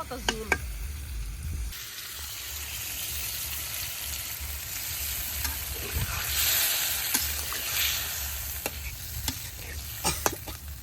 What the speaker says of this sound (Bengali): মশলার লগে মাছটারে খুব ভালোভাবে কষে নিই